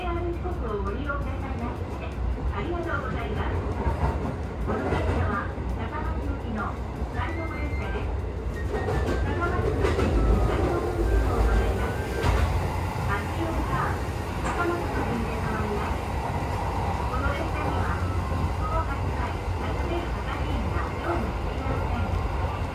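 JR rapid train running fast on the line toward Takamatsu, with a steady rolling rumble and rail clatter heard from inside, and someone narrating over it.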